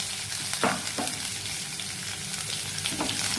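Chopped raw tomatoes and dried red chillies fry for a chutney in a pan, giving a loud, continuous close sizzle with a few soft scraping stirs and no voices.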